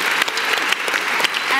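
Audience applause at a meditation-focused event, brisk dense clapping from a crowd at close range, sustained evenly with sharp individual claps standing out.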